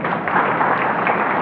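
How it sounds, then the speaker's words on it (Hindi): Audience applause at a school or college gathering, a dense steady wash of many hands clapping at once, fairly loud and continuous with no gaps or voices. "वेरी गुड, इसके ताली बजाओ।"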